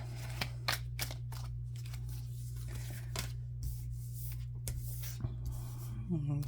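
Tarot cards are shuffled with soft papery riffles and scattered flicks, quiet and close, over a low background hum.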